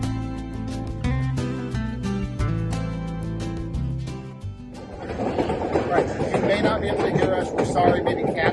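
A White Pass Railway train heading down the mountain to Skagway, Alaska rumbles and clatters loudly over a noisy rushing background, following a passage of music.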